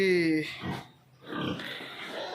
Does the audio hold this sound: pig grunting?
yes